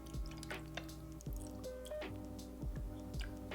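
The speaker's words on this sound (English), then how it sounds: "I'm just gonna add some milk" Milk poured from a carton into a cup of ice, a soft steady trickle with faint clinks and drips of ice, quiet and close.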